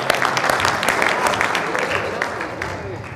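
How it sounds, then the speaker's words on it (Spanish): A room of attendees applauds a participant at a talk on a governor election, with brisk, continuous clapping from many people and a busy crowd murmur beneath it. "Vamos a darle un aplauso al compañero"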